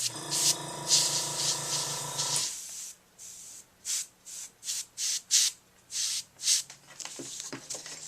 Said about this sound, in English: I'm just going to airbrush right around this little scallop